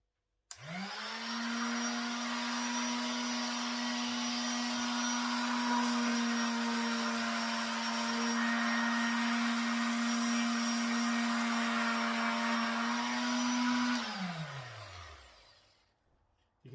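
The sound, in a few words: MacAllister electric sander sanding a workface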